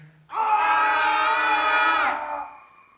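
A crowd lets out one loud, sustained collective scream lasting under two seconds, starting abruptly and fading off quickly, at an Ars Electronica event.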